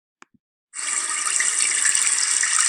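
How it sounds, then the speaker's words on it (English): Water from a tap turned on hard gushes into a sink after two tiny clicks, a loud steady hiss that starts abruptly and runs on alone. "When they turn the water on a lot,"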